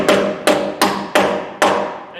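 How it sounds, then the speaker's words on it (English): Five sharp, close metallic hammer taps, unevenly spaced and each ringing briefly, as a wheel balance weight is knocked onto a tire rim in a tire balancer lab. "carefully hammer that weight on as well"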